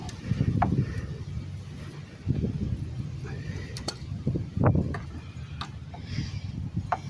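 Ratchet wrench working a stuck bolt on a rusty Ford Pinto, giving faint scattered clicks and metallic knocks at close range with short bursts of handling noise and brief talk nearby.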